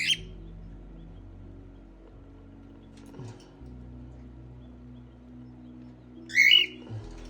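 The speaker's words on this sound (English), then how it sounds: "All these silly birds." A few short cockatiel chirps, one brief burst near the end, over a quiet low background hum.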